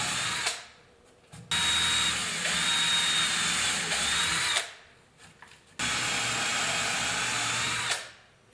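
A power drill bores holes in wood for a bee hotel, two long whirring bursts separated by short pauses and spin-downs, loud and close with no talking.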